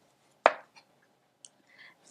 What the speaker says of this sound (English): and just roughly chopping,